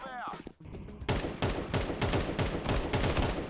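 Shots from Counter-Strike 2 follow a short quiet lead-in, then a fast run of sharp cracks fires in steady rhythm, loud and close, with a brief voice sound at the start.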